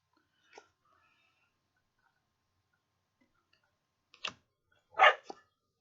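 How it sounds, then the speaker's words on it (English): A dog going crazy barks faintly in the distance: one isolated yap, a long quiet stretch, then a short burst of two or three muffled barks close together, with no voices. "It's my dog going crazy"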